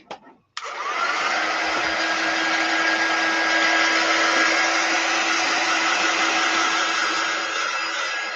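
A hair dryer switches on after a brief click and runs with a steady, loud whooshing hum for several seconds, drying chalk paste on a door decoration indoors, with no talking.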